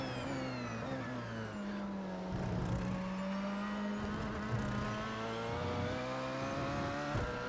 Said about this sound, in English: braking down to second gear for the Dunlop chicane